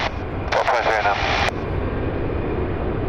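An American Airlines Airbus A321 jet takes off from runway 9 in San Diego, a steady broad roar filling the whole clip while a radio-style voice talks briefly near the start.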